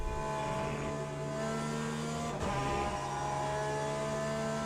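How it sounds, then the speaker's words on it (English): Porsche race car engine in the Le Mans Ultimate racing sim, a steady loud high-revving drone held throughout with a brief dip as if shifting gear, no talk over it. "the sound is great, isn't it? Great little car, the Porsche"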